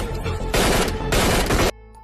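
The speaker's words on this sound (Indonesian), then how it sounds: "Mendengar suara tembakan, Mayor Singh segera bergerak dan baku tembak" Dense automatic gunfire from a film plays loud and close, with continuous bursts of shots overlapping into a sustained roar that cuts off abruptly near the end.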